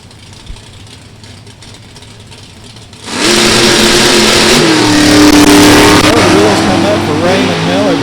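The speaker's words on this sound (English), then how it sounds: "we bring up Raymond Miller and Jim Falby in the Dragster" A drag racing dragster launches at an NHRA Division 3 event at Beech Bend, its engine bursting from quiet crowd murmur into a loud, sustained roar that holds and climbs as it runs down the strip.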